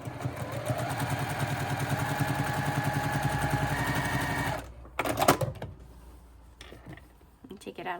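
Sewing machine stitching quilt binding diagonally to a corner, a steady rapid mechanical whir running for about four and a half seconds before stopping, followed by a few handling clicks and rustles.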